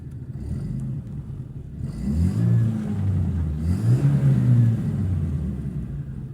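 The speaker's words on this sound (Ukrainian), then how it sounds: "Автомобіль доволі непогано відгукається на педаль газу." A VAZ 2115 car engine revs under the gas pedal, a close, loud rising and falling rumble swelling twice with no talk over it.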